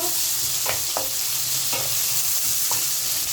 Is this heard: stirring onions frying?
yes